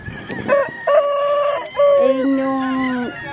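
Hybrid free-range native chickens on a farm, with several loud nearby rooster crows overlapping in quick succession, long sustained calls trailing off, and soft background clucking.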